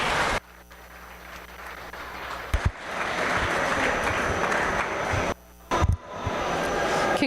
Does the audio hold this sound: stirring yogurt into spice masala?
no